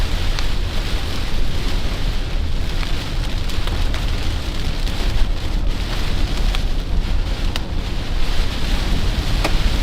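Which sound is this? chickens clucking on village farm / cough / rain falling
rain falling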